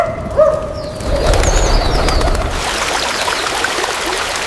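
Pigeons coo and wings flap around office buildings turned into nesting grounds for birds, a steady, fairly loud soft bed of calls and fluttering with a sharper burst of wingbeats early on.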